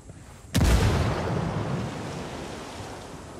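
A grenade explodes in the video game Ghost Recon Wildlands: one sudden loud, close boom that rolls into a long, slowly fading rumble with no voices.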